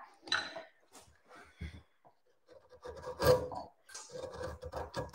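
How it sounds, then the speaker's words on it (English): A wide woodcarving gouge cuts into a wooden off-cut wing, producing short, crisp scraping strokes separated by brief pauses, close and fairly quiet. "So I'm using my wider gouge again."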